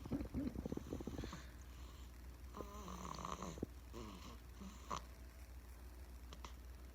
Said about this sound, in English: She's pretty when she snores, isn't she?